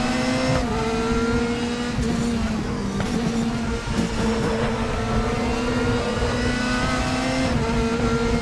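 Audi RS DTM race car engine in RaceRoom, a loud, close, continuous high-revving drone with steady pitch, brief shifts in tone and faint tire noise, no voices.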